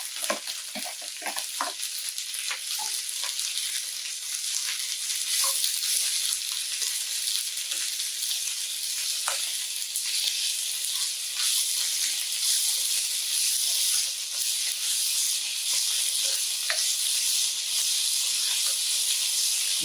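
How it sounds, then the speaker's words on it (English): Raw broccoli added to a pan of turmeric stir fry rice sizzles and hisses steadily, with a few sharp crackles and stirring scrapes near the start, close and continuous with no talking. "the next ingredients to go in is the broccoli raw"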